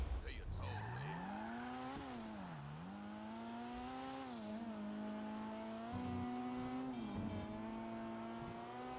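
A bone-stock Toyota Supra driven in GTA Online: a loud, steady engine note climbs and dips as the car accelerates and eases off, with possible brief tyre squeal, running throughout.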